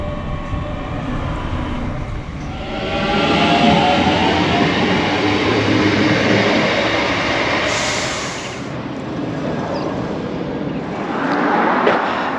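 A train rumbles steadily past, its roar swelling and fading with a rushing, rattling hum and no voices.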